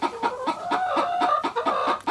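Hens cluck repeatedly inside a deep-litter chicken house while laying eggs, a steady rhythmic chorus of close, overlapping clucks with no talking.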